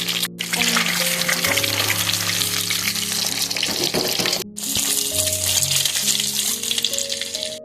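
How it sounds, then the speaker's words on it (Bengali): Eggs sizzle loudly in a generous amount of hot oil for an egg curry with yogurt, a continuous close crackling spatter with a brief pause midway. "এই তেলেই পুরো রান্নাটাই করবো, যার জন্য আমি তেলের পরিমাণটা একটু বেশিই দিয়েছি। ফ্রাই করে নেব"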